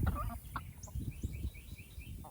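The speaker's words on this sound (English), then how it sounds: "You can see the chickens are leaving the coop." Chickens leaving their coop to free range cluck softly and continuously at close range, with some higher chirps mixed in.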